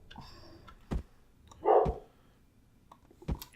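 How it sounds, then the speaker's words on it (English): A dog barks a few times in the background, short sharp barks spaced apart, with light clicking sounds nearby. "you probably hear my dog barking there"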